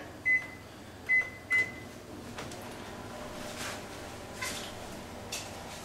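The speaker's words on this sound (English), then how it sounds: "I'm just going to heat it up in the microwave just a bit" A microwave oven warming balsamic syrup gives three sharp beeps near the start, followed by a low hum and faint clatter of cupboard and kitchen movement.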